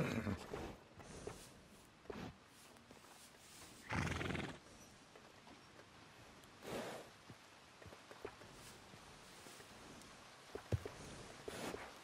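A horse whinnies in a few short bursts in the video game Red Dead Redemption 2, faint and a little distant, with light hoof clops and soft pattering in between.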